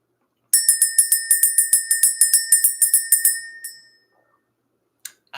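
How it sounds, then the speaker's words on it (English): A small bell struck in a rapid, even series of bright metallic rings used to clear energy, each strike decaying into the next before the ringing fades out, followed by a brief faint chime. "Let's go ahead and ring this bell."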